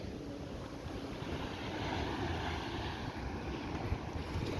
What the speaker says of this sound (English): So this is Brighton Beach.